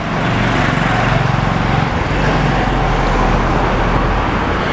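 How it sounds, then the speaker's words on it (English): Steady, loud street traffic in Chiang Mai near the old city, a continuous roar of passing engines and road noise with no distinct breaks. "Traffic is not too bad today."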